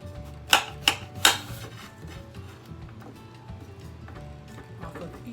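A knife slices through an apple, three sharp crisp crunches close up in quick succession, followed by quieter scraping and handling sounds.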